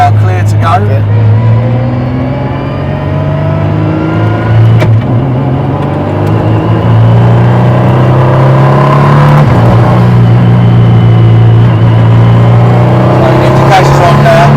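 A Praga Bohema hypercar engine revs and pulls through acceleration on a circuit, a loud, close, rising drone that climbs steadily in pitch, with people talking over it.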